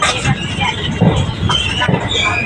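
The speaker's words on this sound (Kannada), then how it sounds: "ತುಂಬ ಸ್ಲೋ ಆಗಿ ಹೋಗ್ತಾ ಇದೆ ಟ್ರೈನ್." A train creeps slowly past railway repair works on the Raybag to Miraj line, its rumble broken by a few rhythmic wheel clacks and rattles heard from on board, with faint voices mixed in.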